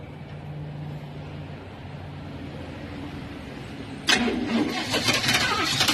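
A swapped-in 350 engine in an Oldsmobile cranks and fires after a stretch of low idle rumble, then runs loud and rough close by with no talking.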